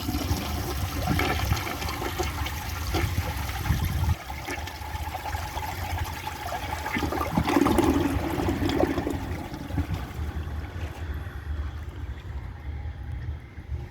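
A 1984 Kilgore Apex toilet flushes a washcloth, a steady rushing water roar running the full length with a brief dip partway and a surge of gurgling swirl in the middle, no talk.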